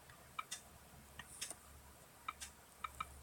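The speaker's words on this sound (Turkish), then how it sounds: "saat tik tak tik tak e, sesi duyuyorsanız benim saatimden dolayıdır o" A wristwatch ticks faintly and close by in a quiet room, its soft clicks falling in small irregular pairs over a low steady hum, with no voices.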